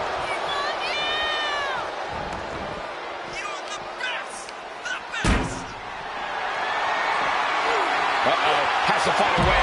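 A roaring arena crowd fills a WWE 2K25 wrestling gauntlet match with steady, loud broadband noise, and a heavy slam thuds in about halfway through as the cheering swells again.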